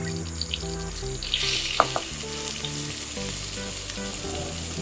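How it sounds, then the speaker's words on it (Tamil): Finely chopped onions sizzle steadily in hot oil in a pan, with a continuous frying hiss and a few clinks of stirring, while background music plays throughout. "இந்த ஃபைனா சாப் பண்ண வெங்காயத்தை இதில் ஆட் பண்ணுங்க."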